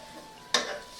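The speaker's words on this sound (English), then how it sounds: "I'm going to go ahead and stir it around." Chicken fried rice being stirred in a hot pan: a single short scraping swish over a faint background sizzle, close and fairly quiet.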